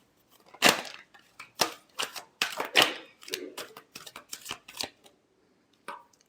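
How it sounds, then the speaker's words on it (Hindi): Tarot cards are shuffled by hand in a quiet room, a series of close, crisp riffling bursts and flicks in uneven rhythm, with a short final flick after a pause. "Last shuffle."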